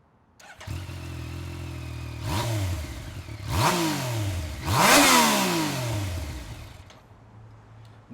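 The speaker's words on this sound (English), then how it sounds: "We're gonna have Luke come over here and rev it up." A 2019 Yamaha Niken GT motorcycle starts and idles, then revs sharply three times with rising and falling engine pitch, echoing in a parking deck before settling back to idle.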